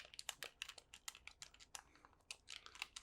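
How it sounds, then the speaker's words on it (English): Buttons on a game controller being pressed, a quick irregular run of crisp, close, quiet clicks and taps over about three seconds, with no voice. "Buttons are nice and clicky."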